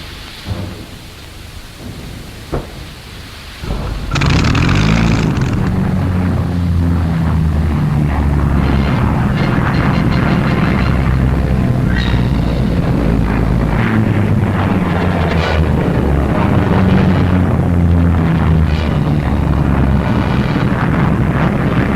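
RAF fighter aircraft engines in wartime action roar up abruptly after a few seconds of quieter rumble, then hold a loud, dense, continuous drone that fills the rest of the stretch with no voices.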